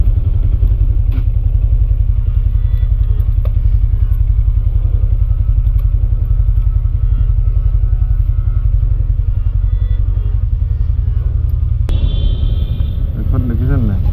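Loud, steady exhaust rumble from NS200 and R15M motorcycles idling or running close by, a continuous low throb with mechanical clatter and a shift in tone near the end; voices are faintly mixed in.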